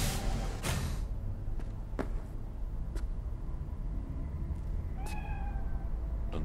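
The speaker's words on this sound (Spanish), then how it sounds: "¡Gato!" A cat in Cyberpunk 2077 gives a short meow late on, amid a busy city backdrop of hum and scattered sharp clicks and footstep-like taps.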